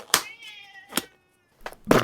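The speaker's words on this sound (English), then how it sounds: "What are you meowing about?" A house cat meows several times at close range, each call a short, clear, tonal cry with gaps of quiet between, in a home where furniture is being restored.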